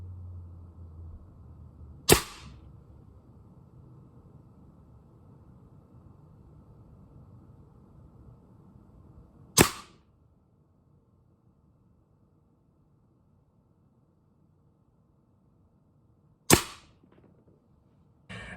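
Three sharp, isolated pops from an airsoft gas blowback pistol fired indoors, spaced about seven seconds apart, each a crisp snap over a quiet room background.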